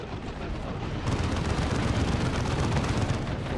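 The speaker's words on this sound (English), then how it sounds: "there's that blind grenade, I should say, and a plasma cannon to the face" Grenade and plasma cannon blasts in a Dawn of War 2 real-time strategy battle form a dense, continuous wash of rumbling explosions and crackling fire that grows louder partway through, with no clear separate hits.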